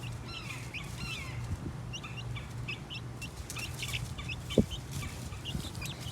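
Large farm hens cluck and chatter steadily at moderate distance, with brief chirps and one sharp knock over a low background hum.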